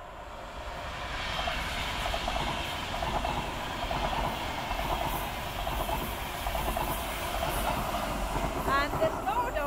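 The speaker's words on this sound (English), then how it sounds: "snow dump site and train is coming" A train passing near a snow dump site, a steady low rumble with rhythmic clickety-clack of wheels that stays fairly constant, moderately distant, with faint wind and outdoor background.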